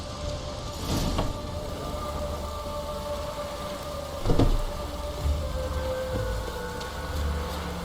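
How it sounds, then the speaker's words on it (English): Soft rain falls steadily in The Witcher 3 video game, a faint continuous wash with a few brief louder swells and no voices. "Even the rain's not different here."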